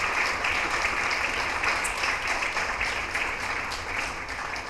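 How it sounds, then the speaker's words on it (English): Dense, steady applause from a live audience at a FameLab 2019 science-communication competition, greeting the final champion, broad and continuous at moderate distance with no voices over it. "please give applause to our final FameLab champion"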